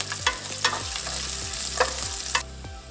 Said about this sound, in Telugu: పచ్చిమిర్చి, కరివేపాకు వేసుకుందాము